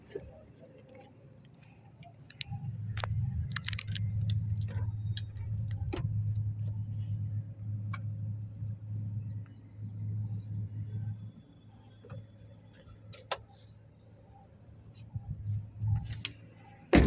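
A 2017 Maruti Ciaz Sigma with a smart hybrid petrol engine idles with a low, steady rumble for several seconds, joined by scattered clicks and ticks, then the engine sound fades and only faint clicking remains.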